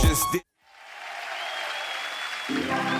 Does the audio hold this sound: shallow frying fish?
no